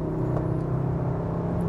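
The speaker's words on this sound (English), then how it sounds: "You hear that turbo whine." A 310 hp Cupra Formentor performance crossover on the move, its engine a steady low drone with a faint turbo whine held over the road noise inside the cabin, no speech.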